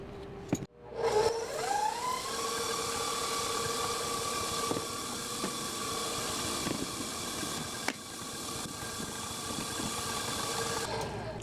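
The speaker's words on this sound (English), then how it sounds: "So I'm gonna start my mixer up and then whisk these together" An electric stand mixer starts up with a sharp whir that rises to a steady hum, then runs continuously while mixing low-carb cinnamon graham cracker dough, close and fairly loud with no talk.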